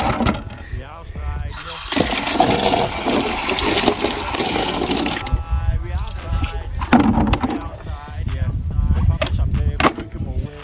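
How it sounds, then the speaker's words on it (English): Buckets are washed with water outdoors, giving splashing, sloshing and hollow plastic knocks, loud and close, with people talking over the noise. "Then it's time to wash the buckets and all the stuff."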